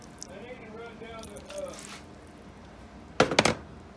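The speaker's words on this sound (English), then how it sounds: "I'm going to pour just a little bit of this stuff over top of that" Sauce poured over homemade dog food, with soft wet drips and squishes followed by a brief louder splatter near the end, close by and under a person talking.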